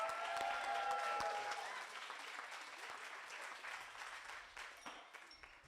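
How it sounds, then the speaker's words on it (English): Wedding guests at a reception at Casi Cielo in Camarillo, California burst into dense, sustained applause that is loudest at the start and slowly tapers, with no talk over it. "Everybody give everybody a round of applause."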